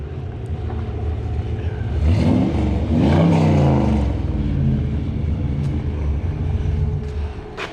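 The big-block V8 of a 1968 Chevrolet pickup truck revs up from a rumbling idle, climbs into a loud, rising roar, holds, then eases back down to a steady, throbbing idle, close by.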